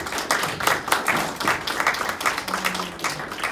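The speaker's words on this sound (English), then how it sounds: "Can we get a big round of applause for our guests here today?" An audience applauds panel guests after a stablecoins panel discussion, a short burst of scattered clapping from a modest crowd, fairly close and moderately loud.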